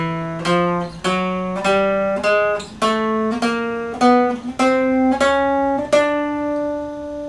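Mountain dulcimer plucked up a chromatic scale, thirteen distinct notes rising by half steps in a steady, even rhythm, each ringing clearly and close with no talking.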